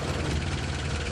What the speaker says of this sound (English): Panzer in Sicht!